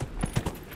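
Hooves of the Bog Unicorn horse mount in Dragon Age: Inquisition clip-clop in a quick run of three or four close, distinct footfalls.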